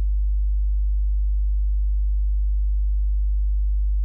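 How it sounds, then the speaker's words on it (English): A steady 50 hertz sine wave test tone, a pure, constant low hum held at even loudness throughout with no other sound. "Here's a more practical 50 hertz."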